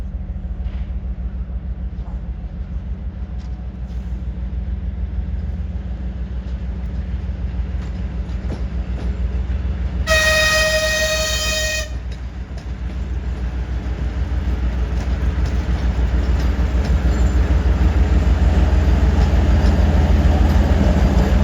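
A TGK-2 diesel locomotive hauls a narrow-gauge train near a depot in Kolomyia, giving a steady low engine rumble and rolling drone that holds throughout, with a brief two-tone horn blast partway through.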